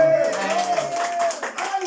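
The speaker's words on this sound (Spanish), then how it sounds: "A ver, que se vea con un fuerte aplauso." A church congregation claps together during a worship service, brisk hand claps running under sustained tones from music or singing voices, fairly loud and continuous.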